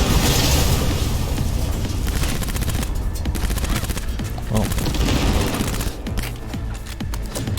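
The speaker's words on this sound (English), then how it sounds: "Grenades! Grenades for everyone!" In the video game Cyberpunk 2077, gunfire rattles and grenade explosions boom nonstop at loud close range, forming a dense, chaotic barrage of shots and blasts.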